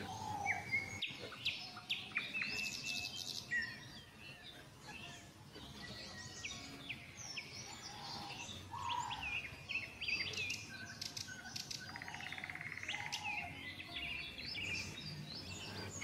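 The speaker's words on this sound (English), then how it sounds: "The bird song" Many birds sing and chirp in a forest at twilight, an overlapping chorus of bright calls and trills near and far, steady for the whole stretch with a faint hum underneath.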